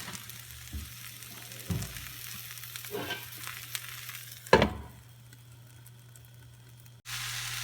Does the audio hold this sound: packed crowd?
no